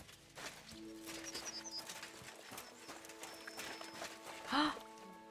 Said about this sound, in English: These are the horses from the car.